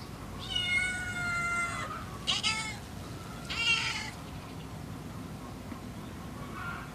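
Young kittens meow in three drawn-out, high-pitched cries close by, followed by a fainter mew at the end over a soft background hiss.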